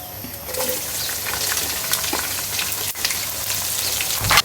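Onion, green chili and garlic frying in oil over cumin, bay leaf, clove and cardamom, a strong steady sizzle with occasional stirring scrapes and a louder burst near the end.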